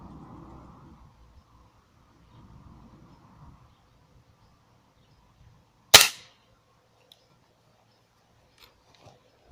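A single sharp, loud crack from a 19.9-joule air rifle firing a pellet at a sport shooting target, standing out against quiet background hum and a few faint ticks.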